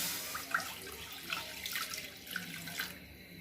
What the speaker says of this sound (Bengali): এখন আমি প্রথমে হাঁড়িতে পানি দিয়ে দিব